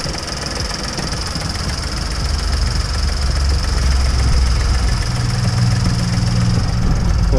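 2011 VW Polo 6R engine idling steadily after a full exhaust replacement, a close, continuous low hum and rumble throughout with no exhaust blowing.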